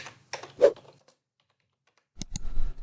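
Typing C program code on a computer keyboard: a short burst of several key clicks, a pause of near silence, then a quick pair of sharp taps followed by more rapid clattering keystrokes, close and crisp.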